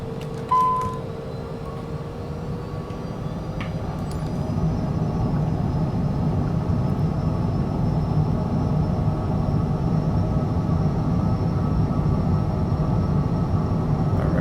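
A Cessna in a flight simulator game rolls for takeoff: a steady engine drone that swells louder after a few seconds and then holds a constant roar, with no talking.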